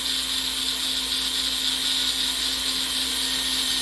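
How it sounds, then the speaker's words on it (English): A rotary power tool runs steadily on a ring, smoothing deep scratches out of the metal, giving a close, constant high-pitched whine with a hum underneath and no pauses. "Get the rest of the ring smoothed out. Get a lot of these super deep scratches out of here."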